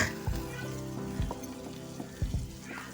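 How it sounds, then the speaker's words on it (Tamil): Fish frying on a dosa griddle, several pieces at once: a steady close sizzle and crackle of hot oil, broken by a few sharp scrapes and thumps as the fish are turned or moved. "தோசைக்கல்ல எவ்வளோ மீனாக இருந்தாலும் ஒரு 4-5 டயத்தில் போட்டு பொரித்து எடுத்துடலாம்"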